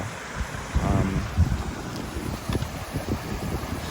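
A mountain stream rushes at a trail water crossing, a close, full, steady wash of flowing water with a brief rougher surge early on.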